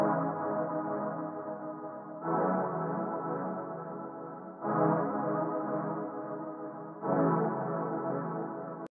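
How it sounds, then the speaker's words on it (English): A big, sustained synthesizer pad from the Expand 2 Huge Pads preset plays a slow series of chords, each swelling and holding for a couple of seconds before the next change, warm and full with no voices. "It has that big pad sound."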